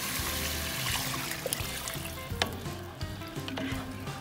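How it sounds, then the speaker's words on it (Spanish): Chicken pieces sizzle and fry loudly in a pot for a Peruvian aguadito de pollo, with a constant crackling hiss, occasional sharp pops and a few stirring clatters, with no talking. "Le vamos a agregar el pollo."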